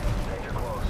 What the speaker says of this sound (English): Frag out! Let's hope that landed in the right spot.